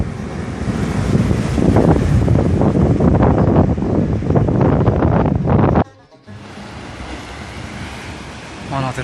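Strong wind gusts across an open coastline during rod fishing, with surf rolling in beneath a loud, steady roar that cuts off abruptly and then returns more softly.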